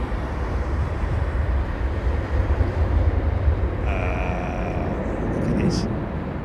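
A Boeing 767-400 airliner at London Heathrow in crosswind conditions gives off a continuous broadband jet roar at moderate distance, with a whining tone entering partway through, under people talking.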